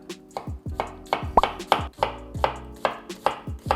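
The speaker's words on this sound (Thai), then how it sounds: "เวลาเราทำซุปเราไม่ต้องหั่นละเอียดมากก็ได้นะครับ เราหั่นแบบนี้เลยก็ได้" A knife chops a large onion coarsely on a cutting board for soup in steady, evenly spaced strokes, close up and crisp, with no talking.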